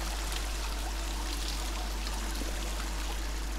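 Steady rushing water from a waterfall seen from above in the video game Dear Esther, heard as a quiet, continuous hiss with a low rumble beneath it. No voices.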